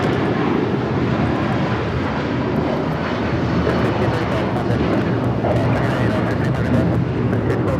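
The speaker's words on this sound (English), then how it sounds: "1635 taking off to Washington Dulles on the 757-300" United Airlines Boeing 757-300 taking off from runway 25 Right at LAX, bound for Washington Dulles: a loud, steady jet engine roar that holds throughout without easing.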